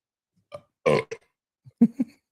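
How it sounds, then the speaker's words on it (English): Several short, loud burps from a man in a podcast studio, in quick irregular bursts with brief pauses between them. "and a burp there too"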